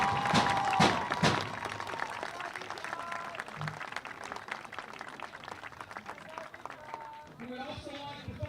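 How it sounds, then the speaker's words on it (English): Spectators at a high school soccer senior night applaud the senior class, with scattered clapping and cheers from the stands heard over crowd noise and talk. "Let's give them applause, ladies and gentlemen."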